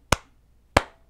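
Two sharp hand claps ring out alone, spaced a little over half a second apart, each with a brief decay.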